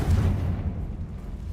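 A Confringo fire spell explodes in Hogwarts Legacy, a deep booming blast with a low rumbling tail that fades slowly, heard alone.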